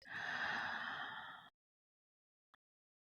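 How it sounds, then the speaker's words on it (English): A deep, audible breath is drawn in during a breathwork exercise, close and airy, lasting about a second and a half before cutting to silence, followed by a tiny click. "breathing in, filling the belly, filling the chest"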